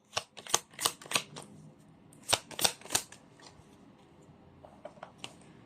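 Tarot cards shuffled by hand, giving bursts of crisp riffling and flapping in two main clusters, close and fairly loud, then a few lighter taps and flicks as the deck settles.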